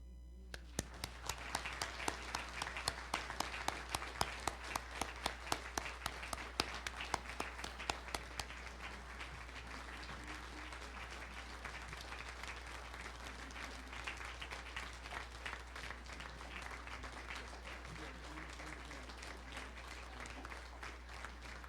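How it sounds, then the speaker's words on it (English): An audience at an annual Baptist convention meeting applauds an award recipient with steady clapping, sharp and distinct at first, then settling into a dense, even wash of applause heard from a distance. "please give an applause to Reverend Mark Stump."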